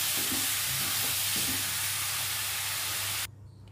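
Prawns stirred with masala in a hot pan sizzle and hiss continuously, with faint scraping strokes of the spoon, before the sound drops away abruptly near the end.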